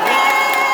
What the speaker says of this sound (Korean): 다시 한번 응원의 박수.